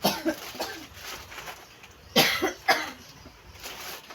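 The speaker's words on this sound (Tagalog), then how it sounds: "Inuubo kasi ako." Several separate coughs from one person, two loud close bursts near the middle and softer ones early on, in a cluttered small shop with quiet room noise between.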